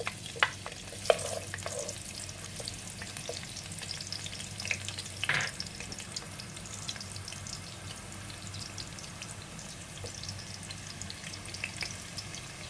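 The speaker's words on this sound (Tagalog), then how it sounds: "sa una po tayo maggigisa ng sibuyas" Onions sauté in a pan as the first step of chicken tinola, giving a continuous low sizzle with a few clinks and scrapes of stirring early on, close and free of talk.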